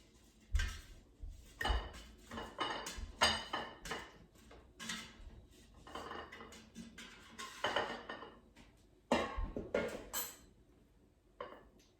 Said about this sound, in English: So let me remove them to a plate.